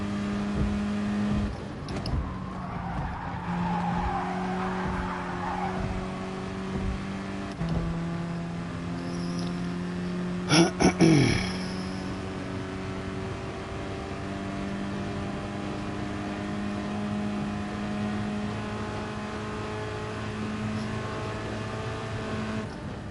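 A race car engine in the GT Sport racing game drones steadily at a low level, with gear changes and shifting revs throughout and a brief sharp burst near the middle.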